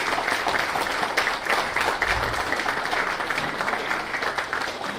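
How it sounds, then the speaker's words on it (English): Audience applause at a fire and electrical safety event in a hospital setting, a steady, dense wash of clapping from a crowd that holds at even loudness for about five seconds with no talking over it. "can I have a thundering applause?"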